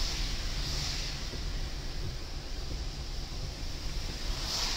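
Strong wind roars through Morocco during light rain, a steady, dense rushing noise buffeting the microphone with no break and no voices.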